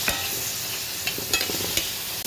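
Onion, dried red chillies and garlic fry in oil in a pan, giving a steady close sizzle with a few short stirring scrapes, and no voices.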